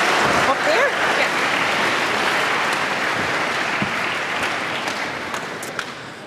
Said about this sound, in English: You give her a big round of applause.